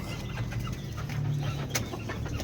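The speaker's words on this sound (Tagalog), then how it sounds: "Puro manok. Mga panabong. Yan sila. Ayan ang mga manok." Fighting cocks kept in a backyard cluck softly and steadily, low repeated calls close by over a continuous outdoor background hum, with a brief sharper sound near the end.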